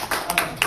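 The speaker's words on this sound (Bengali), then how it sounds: "শারমিনের হাততালি।" A few quick claps ring out in a classroom for a student, sparse and brief, rising over quiet room tone.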